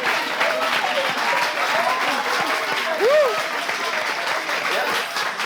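Audience at a French variety show breaks into steady, dense applause that fills the whole stretch, with scattered voices and a whistle-like cry over the clapping.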